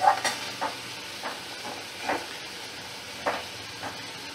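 Okra and potato being stirred in a pan with a little water, soft sizzling under intermittent scraping strokes of a spatula, several short bursts, close and alone.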